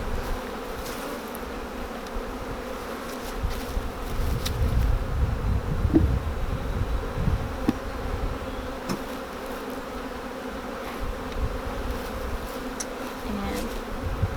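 Honeybees buzzing steadily around a hive as it is lifted back into place, a dense continuous drone with some handling knocks mixed in.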